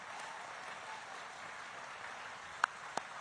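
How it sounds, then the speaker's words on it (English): A crowd at a Ron DeSantis presidential campaign rally in New Hampshire applauds in a steady, even wash of clapping heard from some distance, with a couple of sharper claps standing out near the end. "So give her a round of applause."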